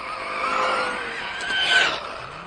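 An RC truck races on a dirt track, its motor whining and its tires squealing loudly for a couple of seconds, swelling and fading up close.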